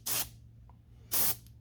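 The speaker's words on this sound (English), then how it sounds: "So I'm still spraying fairly high pressure, 30 psi." Airbrush spraying paint at a fairly high 30 psi, two short hissing bursts each about a fifth of a second long, separated by a near-silent pause, close and clear with no talk.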